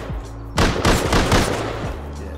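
Automated turret in the survival video game Rust fires a rapid burst of several close, loud shots that ring out and decay, with no talking over it.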